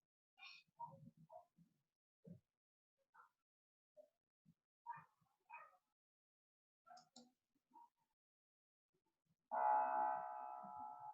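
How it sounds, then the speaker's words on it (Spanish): A single piano note played from a recording, sounding near the end after a stretch of scattered faint knocks and taps, then ringing out strongly and sustained with rich overtones. "Fíjense, eso es un piano."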